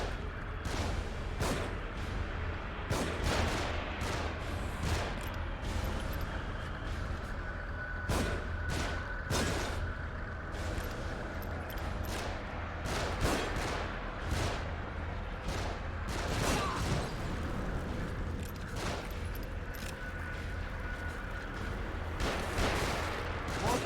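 Gunfire from an elevated position in The Evil Within, with sharp shots cracking at irregular intervals over a continuous low rumble for the whole stretch, moderately loud.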